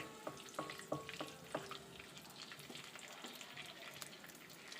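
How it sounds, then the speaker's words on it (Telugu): Whole cloves and star anise sizzle in hot oil for a green chicken curry, a soft steady fry with a few light clicks and taps from a utensil near the start, close by and with no talk. "లవంగాయ్ అనాస పువ్వు ఇది కొంచెం ఆయిల్లో వేగనివ్వాలండి"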